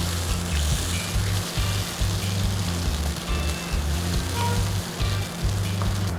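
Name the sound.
coconut milk poured into pan for Bicol laing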